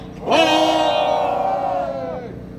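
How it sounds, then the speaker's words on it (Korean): A crowd at a protest rally lets out one loud, sustained roar of shouting and cheering that swells quickly and holds for about two seconds before fading. "격한 함성을 부탁드립니다"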